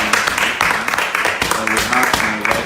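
Studio audience clapping for the guests at a live Lagos talk show, a dense, sustained burst of applause that fills the whole stretch with steady crackling claps and a few louder peaks.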